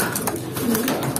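Racing pigeons coo at their loft, soft, close, throaty calls repeating in quick succession over faint background noise.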